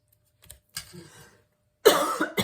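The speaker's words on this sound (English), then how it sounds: "a little bit of a sinus and cough and drainage going on today." A short, harsh cough bursts out after a few quiet rustles and a soft breath, close to the listener.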